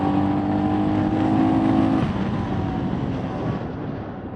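A group of motorcycles rides past on a mountain road toward Turtuk in Ladakh, engines droning loud and close with a passing swell that fades away as the bikes move off.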